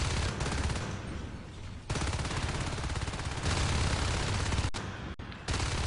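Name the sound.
gunshots in a video game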